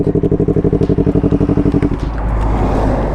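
A motorcycle with a handling problem idles with a steady, rapid pulsing thump for two seconds, then shifts into a rougher, louder continuous rumble.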